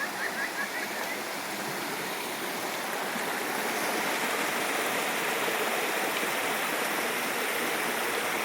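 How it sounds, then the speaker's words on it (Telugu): A waterfall and stream flow in a botanical garden in Munnar, making a constant full rush and splash that stays close and steady throughout, with no talking over it. "ఇక్కడ వాటర్ ఫాల్ చూడండి ఎంత బాగుంది నీట్గా."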